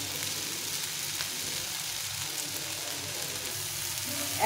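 Onions and vegetables for pasta fry in a pan, hissing in a steady close sizzle with occasional faint stirring scrapes and a small clack at the end.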